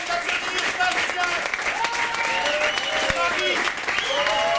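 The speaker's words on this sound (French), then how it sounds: "Je vous demande d'applaudir Bastien" Applause from an audience at an improv theatre show, clapping for the performers as they are introduced by name; steady clapping runs throughout, with a presenter's voice calling out over it.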